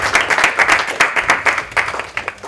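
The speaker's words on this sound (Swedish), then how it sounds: "En applåd för Karin." An audience applauds a speaker named Karin at a talk, a dense, lively patter of many hands clapping close and loud, steady throughout.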